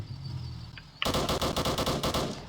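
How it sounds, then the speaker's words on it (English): A machine gun on a Roblox Military Tycoon M10 Booker vehicle opens fire after a quiet hum, a loud rapid burst of evenly spaced shots continuing to the end. "That's a machine gun"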